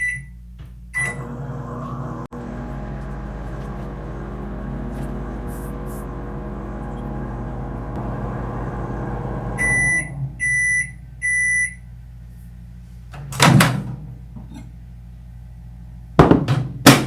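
Microwave oven humming steadily for a short burst while melting chocolate, then stopping with a series of beeps, followed by a door clunk and handling noises.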